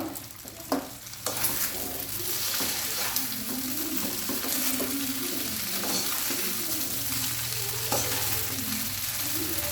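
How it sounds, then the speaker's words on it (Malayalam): Vermicelli snack mix with garam masala is stirred in a pan, a few sharp utensil knocks at the start, then steady close scraping and sizzling frying that continues without speech. "ഇനി നമുക്കിതൊന്ന് നന്നായി ഇളക്കി കൊടുക്കാം"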